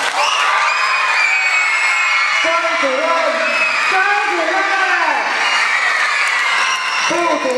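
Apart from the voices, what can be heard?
crowd cheering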